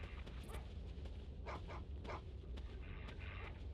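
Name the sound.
dogs barking in a video game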